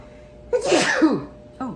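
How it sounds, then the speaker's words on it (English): A single big, sharp sneeze, close and loud, with a quick intake just before the burst and a short vocal sound right after. "that was a big sneeze"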